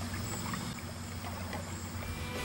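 Mellowship solar-powered electric-motor boat gliding across a lake, heard as a faint, steady low hum and wash of water with no engine noise, continuous and distant-sounding, no speech.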